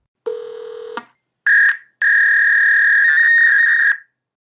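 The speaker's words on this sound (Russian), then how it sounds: "вместо обычных гудков в трубке слышны звуки, похожие на издаваемые модемом" Electronic modem-like tones on a telephone line in place of ordinary ringback: a steady low-pitched tone, then a short high tone, then a long sustained high warbling tone, loud and clear with no voices.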